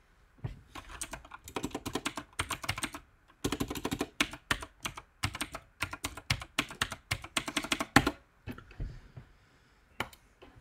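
Typing on a computer keyboard, close and clear, with quick bursts of clacking keys separated by short pauses and a few lone taps near the end.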